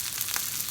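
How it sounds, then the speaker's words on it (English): Mushrooms sauté in a hot pan with a steady, bright sizzle and hiss, close and continuous through a brief moment with no talking. "Now we've just got to saute them off"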